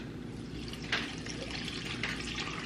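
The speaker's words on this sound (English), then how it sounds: "Water going in." Water pours steadily into a soup pot of onions and vegetables as a soft, continuous trickle, with a couple of brief splashy accents, heard fairly faintly and without talk.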